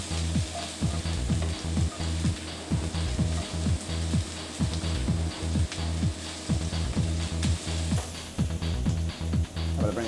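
Mushrooms frying in hot oil in a restaurant kitchen pan, a loud, steady sizzle broken by quick rhythmic scraping strokes as they are stirred, with no talk.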